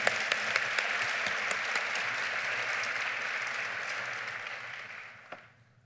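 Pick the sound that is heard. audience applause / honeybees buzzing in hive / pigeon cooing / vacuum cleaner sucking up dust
audience applause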